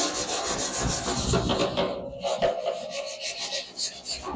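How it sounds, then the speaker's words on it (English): A metal wire brush scrubs rusty metal legs by hand, close and loud, with rapid back-and-forth rasping strokes and a brief pause partway through. "Getting my handy metal brush and old-fashioned scrubbing will do the trick."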